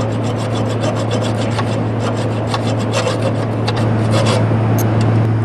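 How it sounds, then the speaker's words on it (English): A small hacksaw cuts through rusted bolts on a GM W-Body exhaust resonator, a brisk, even rasp of back-and-forth strokes repeating close up, continuous and unaccompanied by talk. "I'm just going to use my little hacksaw to cut through those"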